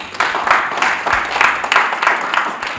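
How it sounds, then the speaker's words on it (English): Audience clapping for Betway at a sports writers' conference, a loud, uneven patter of hands with recurring swells over a few seconds. "Can we clap for Betway?"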